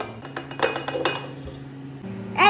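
Whisk or spoon clinking against a bowl while cake batter of sunflower oil and flour is mixed, a steady run of sharp clinks and scrapes through the first two seconds before a brief voice at the end.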